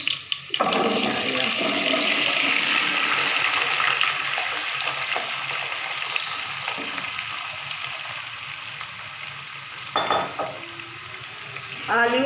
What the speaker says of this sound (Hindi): अब मैं इसके अंदर आलू शामिल कर रही हूँ।